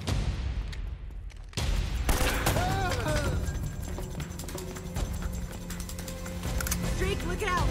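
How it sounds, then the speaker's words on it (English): Video game gunfire from Uncharted: Drake's Fortune rattles through a continuous battle mix, sharp shots and bursts layered over background music and effects after a brief quieter moment near the start. "They're shooting at you too, you know."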